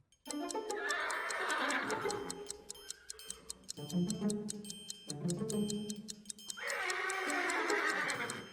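Repeated horse whinnies rise and fall over a steady ticking clock-like beat, fairly close and loud, with no talking.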